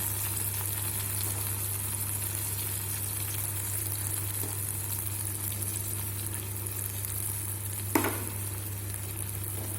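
Coconut and coriander powder sizzle in a pan during Sundakkai kulambu cooking, a steady close frying hiss under a constant low hum, with one brief clink from stirring near the end and no talk.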